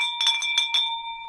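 A bell rings in several quick struck strokes, then one long sustained ringing tone slowly fades, clear and close with nothing else audible.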